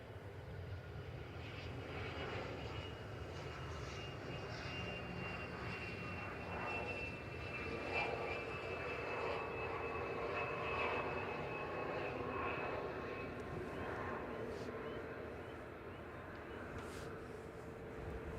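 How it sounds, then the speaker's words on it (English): A Loganair Embraer ERJ 145 regional jet lands at Manchester Airport, its engine roar swelling and holding steady with a whining tone on top, then easing slightly as it passes at moderate distance, with no talk. "This is Loganair Flight 21 coming in from Aberdeen, a little ERJ 145 GSAJL."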